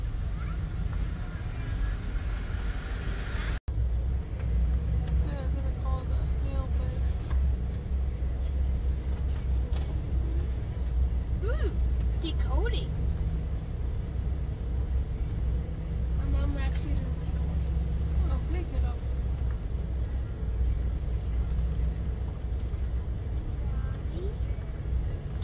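A car rolls slowly through the campground at Fort Stevenson on a windy day, with a steady low engine and road rumble and wind buffeting the microphone throughout.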